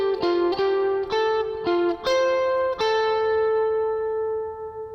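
Lead guitar picks a short melodic phrase from a song's interlude, several clear plucked notes followed by a final note left ringing and fading, close and alone.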